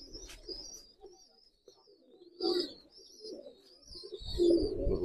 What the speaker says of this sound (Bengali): সুন্দর পাকের কবুতর